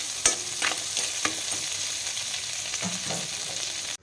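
Crab fries in a kadai with a steady, dense sizzle, punctuated by occasional clanks and scrapes of stirring, close up and continuous until it cuts off abruptly, with no one speaking.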